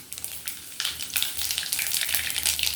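Mustard and cumin seeds fry in about three spoons of hot oil for an avarekalu uppittu, with crackling sizzle and popping bursts that swell partway through, close by with no speech.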